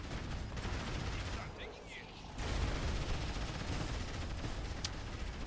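Mortar Mishka artillery fire in the Rise of the Reds strategy game, a continuous barrage of booming shots and rumbling impacts at steady loudness with a brief lull midway, under running commentary.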